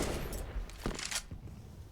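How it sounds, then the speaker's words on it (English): Quick gunshots from a rifle in a CS:GO match at the IEM Katowice 2022 tournament: a few sharp, short cracks spaced over two seconds under a low game rumble, moderately loud. "Quick shots from Faven."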